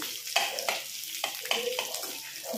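Onion frying in hot oil with crackling green chillies in a home kitchen pan; a steady bright sizzle runs throughout, broken by several sharp scraping stirs and crackles, close and fairly loud.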